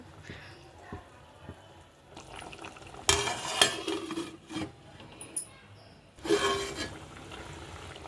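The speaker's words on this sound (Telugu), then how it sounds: "ఇదిగోండి చేపల కూర అయితే ఇలా ఉడుకుతుంది" Korameenu fish curry simmers and bubbles in a pot, with soft sizzling and stirring that swells into louder bursts partway through and again near the end.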